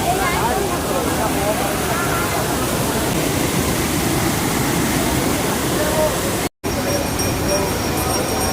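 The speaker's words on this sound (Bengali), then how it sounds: "এখন জলের স্রোত প্রচুর আছে" Strong water current rushes continuously at close range, a dense, loud roar of flowing water with no pause except one brief cut near the end.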